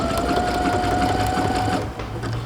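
A sewing machine runs steadily at close range, stitching a curved bra cup for a corset dress, its motor whirring continuously with a brief dip in pace near the end.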